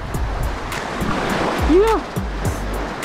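Strong sea waves surge against a rocky cave shore near Mauban, Quezon, a close, rushing wash with wind buffeting the microphone, while someone speaks briefly over it.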